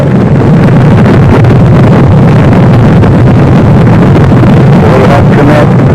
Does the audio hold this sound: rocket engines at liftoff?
yes